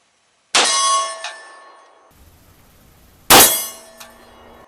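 Two sharp metallic clangs of pistol bullets hitting a steel target, spaced a few seconds apart, each ringing out with a bright, fading ding, with a quiet gap between them.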